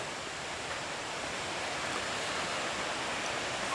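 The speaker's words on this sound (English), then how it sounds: "on my right I can still hear the bubbling burn" A small Scottish burn bubbles steadily beside a walking route near Lochearnhead, its close, continuous broadband rush of water filling the scene without pause or voices.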